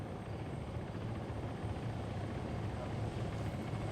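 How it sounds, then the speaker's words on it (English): A helicopter in a video game sounds as a steady, rumbling rotor drone with a dense, chopping low thrum. It holds at an even, moderate level throughout the short stretch. "We have helos inbound."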